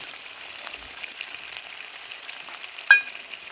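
Chicken frying in spices for chicken do pyaza just after cashew paste is added, a faint, steady sizzle with a single utensil clink near the end.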